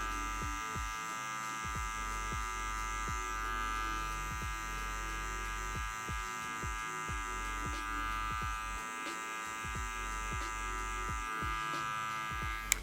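An electric hair clipper buzzes steadily and close while cutting a low taper fade, a continuous motor hum with small rhythmic changes in tone as it moves through the hair, no voices over it.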